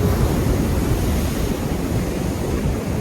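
Loud, continuous roar of heavy ocean surf crashing and rushing, with wind buffeting the microphone.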